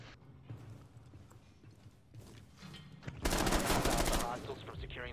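Rapid automatic gunfire erupts in a Rainbow Six Siege match, a loud dense burst of shots lasting about two seconds after a quieter stretch of scattered in-game noises, close in the mix.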